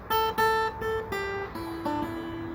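Plucked guitar notes ring out one by one, a short descending blues phrase played alone, clear and close.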